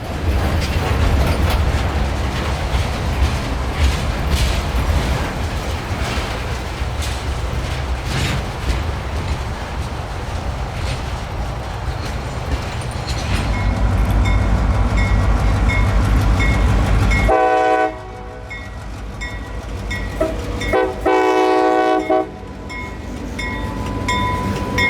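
A freight train leaving Tampa rumbles loudly past at close range with heavy, continuous rolling noise, and a tonal horn-like blare sounds near the end.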